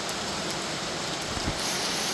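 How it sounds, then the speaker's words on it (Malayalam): Rainwater pours off a concrete roof slab down a pipe and rain chain, a brief, steady, close splashing rush of falling water with no pauses. "പൈപ്പിലൂടെ ചങ്ങലയിലൂടെ വെള്ളം ചാടുന്നു."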